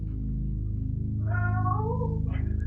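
A cat meows once in a drawn-out, rising and falling call, close and fairly quiet over a low steady hum, with no talking.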